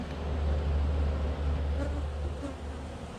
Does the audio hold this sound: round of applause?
no